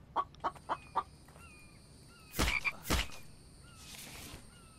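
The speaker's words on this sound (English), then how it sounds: "Is that a frog?" Frog croaks in the video game The Infected: four short, evenly spaced croaks up front, then louder game sounds and thin chirps, with no talking.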